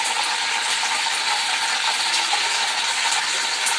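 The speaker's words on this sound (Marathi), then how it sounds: "ही अशी वांगी टाकलेली आहे। ही आता सगळी वांगी मी अशीच याच्यामध्ये तेलामध्ये" Brinjal frying in hot oil in a kadai, a steady close sizzle with bright crackling texture that holds evenly throughout, no voices.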